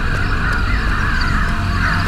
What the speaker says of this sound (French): Pourquoi il y a des corbeaux nulle part sauf au-dessus de chez moi?